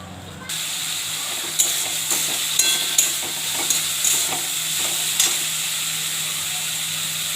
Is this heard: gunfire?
no